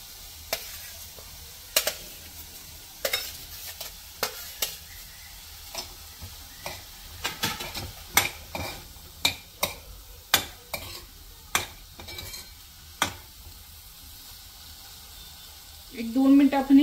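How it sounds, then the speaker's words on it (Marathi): Paneer and tomatoes sautéing in a pan, with a steady faint sizzle and intermittent sharp scrapes and taps of a stirring spoon, plus a louder burst of frying near the end. "हे थोडंसं सॉटे झाल्यानंतर त्यात आपण टाकणार आहोत पनीर, आणि सगळ्यात शेवटी टोमॅटो।"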